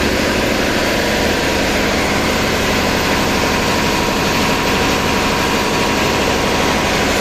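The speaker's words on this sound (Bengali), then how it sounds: "ছয় সিলিন্ডার বিশিষ্ট ইঞ্জিন," Six-cylinder engine running in the engine room of the Al Arafah 7 passenger launch, a loud, continuous low mechanical drone with steady vibration, heard up close and without any talking.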